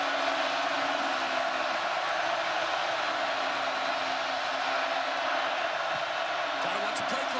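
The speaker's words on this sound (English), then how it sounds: "Joey, this crowd is up." Football stadium crowd at a Baylor at Kansas State game, a continuous loud roar of cheering voices that holds steady throughout.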